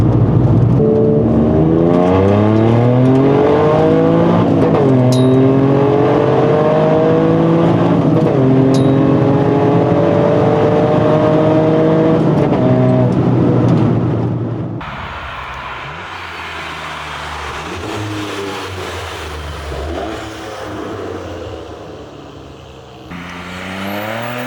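A Toyota GR Yaris engine revs hard while driving, loud and close, with rising pitch sweeps through quick successive gear changes before settling into a quieter, steadier drone.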